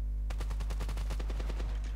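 Rapid automatic rifle fire from an M4-style weapon in the Standoff shooter game, a loud sustained burst of evenly spaced shots over a steady low hum.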